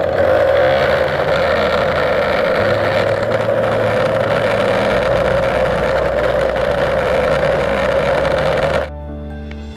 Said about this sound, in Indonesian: jadi ya mesin bubut hasil buatan sendiri akhirnya bisa digunakan untuk bubut juga